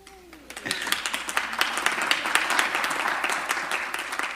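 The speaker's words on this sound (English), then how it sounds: "The applause got ahead of my congratulations" A city council chamber audience breaks into applause for a newly registered professional planner, starting softly and swelling into sustained, dense clapping after about half a second.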